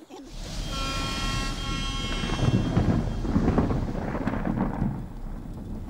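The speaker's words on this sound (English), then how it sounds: "the lightning's still flashing and the rain's still falling" Thunderstorm during a night drive while storm chasing, with steady heavy rain and a rolling rumble of thunder building through the middle, loud and close, with no talking.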